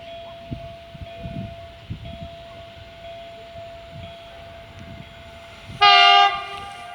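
A train rumbles by in the distance with a low steady hum, then a loud horn blast sounds near the end.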